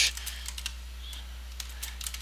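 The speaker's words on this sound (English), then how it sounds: "Just so you know, I'm actually typing this out." Soft, quick keystrokes on a computer keyboard tap in an irregular run, fairly close and quiet over a low steady electrical hum, with no voices.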